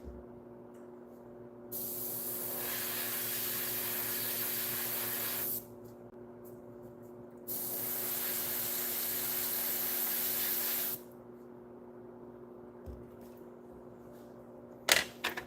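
An airbrush sprays in two long bursts of steady, close hiss, each lasting about four seconds, separated by quiet pauses with only a faint background hum, followed by a few small clicks near the end.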